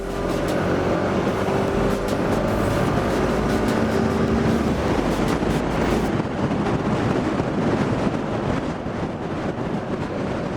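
Outdoors, wind buffets the microphone in a continuous low roar and rumble, with faint tonal hums early on and no talking.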